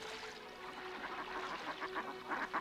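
Mallard ducks quack in quick, soft bursts during mating season, several birds calling together at a moderate distance, growing more frequent toward the end.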